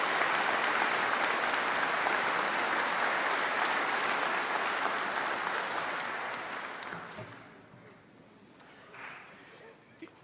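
Commencement audience gives dense, loud applause that holds steady for several seconds, then gradually fades and dies out, leaving quiet with a faint voice at the end.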